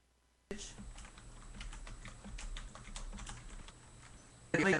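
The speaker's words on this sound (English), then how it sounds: "Let me just type Karen a message" Someone types a short message on a computer keyboard, with rapid irregular key clicks close by, then a louder bump at the end.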